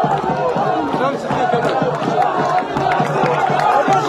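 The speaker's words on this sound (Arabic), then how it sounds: "نعم الجماهير تهتف." Football crowd in the stands during a local club match, a loud mass of chanting and cheering voices with rhythmic pulses, continuous and close, with a commentator's voice mixed into the roar.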